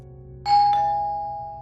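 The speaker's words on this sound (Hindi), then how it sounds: "लगातार बजती घंटी की आवाज" A doorbell sounds as an audio drama effect: a single sharp ding-dong strike at about half a second that rings on and slowly decays, heard alone over a low steady background hum.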